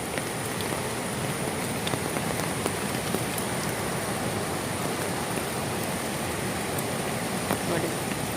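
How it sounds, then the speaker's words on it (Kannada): Heavy monsoon rain falls steadily on a village near the overflowing Phalguni river, a dense, even hiss of drops on surfaces that continues without a break. "ನಮ್ಮೂರಲ್ಲಿ ಮಳೆ ನೋಡಿ ಹೇಗೆ ಉಂಟಂತ ನೋಡಿ"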